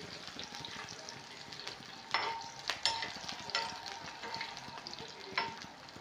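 Onions frying on a tava for besan pitla, a steady close sizzle with occasional sharper crackles and stirring scrapes, no voices.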